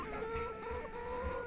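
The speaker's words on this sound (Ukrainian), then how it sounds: "Гарно кукурікає, прекрасно кукурікає, красавчик." A rooster crows close by, one long drawn-out call with a steady pitch, fairly loud against quiet surroundings.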